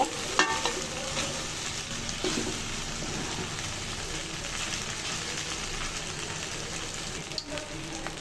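Chicken pasta stirred and tossed in a pan, giving a continuous even sizzle with soft scraping and mixing sounds near at hand and a few clinks at the start, no voices.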